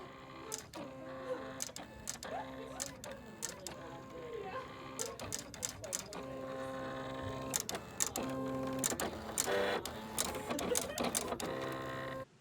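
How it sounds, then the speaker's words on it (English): A craft plotter cuts a circuit trace into copper fabric, giving a steady mechanical whir with rhythmic stepping tones and repeated sharp clicks as the carriage moves back and forth. "So now we cut the circuit on the copper fabric."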